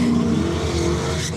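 A V8 nitrous drag race car on 275 radial tyres roars loudly and steadily up close, its engine drone dominating with a faint tyre squeal edge.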